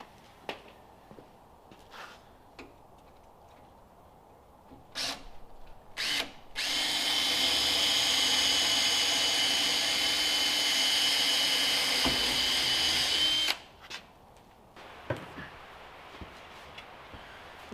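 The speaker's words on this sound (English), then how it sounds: "now I'm going to drill them out." A power drill bores out punched holes in a barn door, starting with a few short bursts and clicks, then a loud steady whine for about seven seconds before stopping, followed by light handling noises.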